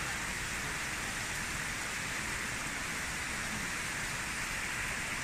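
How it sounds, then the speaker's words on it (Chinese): Constant, even rushing of a mountain stream running high after several days of rain, a dense close wash of water with no pauses. "潺潺溪流"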